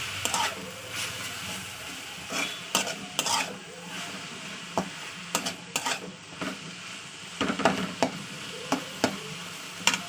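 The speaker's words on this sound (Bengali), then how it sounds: "পাতা দিয়ে দিয়ে ভালো করে সময় আলুর সঙ্গে মাখিয়ে নেবো" Thin potato slices and leaves being stirred in a frying pan, with repeated scraping strokes over a steady soft sizzle; no talk.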